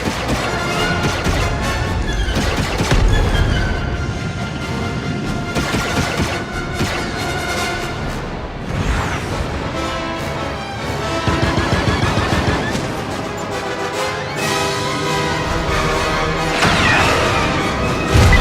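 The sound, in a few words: turret gunfire in the video game Star Wars Outlaws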